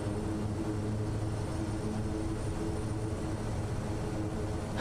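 A propeller aircraft engine from Microsoft Flight Simulator 2024, an SWS Kodiak STOL plane, drones in a steady, fairly quiet hum with a constant low tone and broadband airflow, heard alone without speech.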